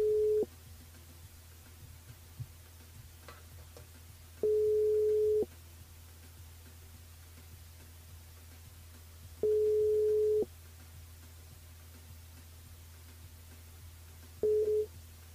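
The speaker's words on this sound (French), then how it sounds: "Après, on appelle Corinne" Telephone ringback tone during a live radio call-in: a single steady tone sounds in long one-second bursts about every five seconds, with quiet gaps between and no talking.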